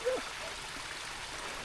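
A mountain stream rushes beside a hiking trail on Catbells in the Lake District, giving a steady, even watery hiss, with a brief voice at the very start.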